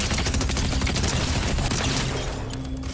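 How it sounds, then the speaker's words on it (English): Players in Fortnite fire guns in a dense, nonstop fusillade of close gunshots and booms, loud and continuous across the whole moment. "Why is there so many people here shooting me in the back and everything?"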